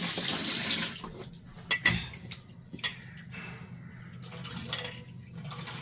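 A tap runs into a sink or tub while clothes are washed, with splashing, dripping and occasional clinks. Water noise rises and falls with sharp bursts, and there are no voices.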